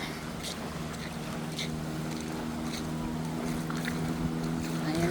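Motorcycle engine running steadily through flood water in Oriental Mindoro, Philippines, a close, continuous droning hum with splashing water noise throughout.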